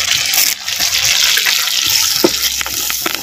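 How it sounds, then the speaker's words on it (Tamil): Water splashing and trickling steadily as curry leaves are rinsed, a close washing sound with a few sharper splashes toward the end, while preparing a fried sardine gravy in a clay pot. "அலசினா கருவேப்பில ரெண்டு இனக்கு சேர்த்துக்குவோம்."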